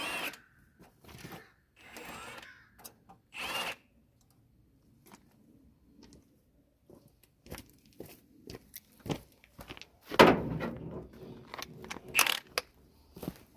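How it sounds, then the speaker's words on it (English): Tools working loose bolts on a 1967 Mustang fastback body, with scattered metallic clicks, clanks and crunching rattles in short separated bursts, including a louder clattering stretch near the end. "I'm just going to take the bolts out until stuff falls apart"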